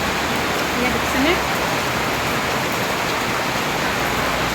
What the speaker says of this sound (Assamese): এই চাওক বন্ধু বান্ধৱীসকল, বৰষুণ দিছে দেই